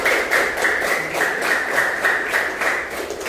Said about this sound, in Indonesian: Tepuk tangan untuk Tara